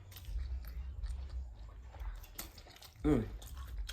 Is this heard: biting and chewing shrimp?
yes